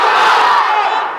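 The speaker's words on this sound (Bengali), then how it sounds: "রেডি? তাকবীর দাও, লিল্লাহে তাকবীর।" A large gathering at an Islamic sermon roars a single loud, sustained takbir chant in unison, many voices blended close and powerful, fading slightly at the end.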